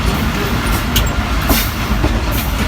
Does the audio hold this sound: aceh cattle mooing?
no